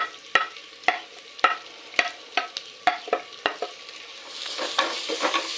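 Onion and curry leaves with shallots frying in a pan for a Kerala varutha curry, with a steady sizzle broken by repeated sharp clicks of a spoon stirring against the pan, growing louder near the end.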